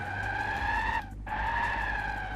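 A steady, high tire squeal from a car skidding in an MTA video game, broken by a brief dip before the screech resumes, loud and continuous with engine noise beneath.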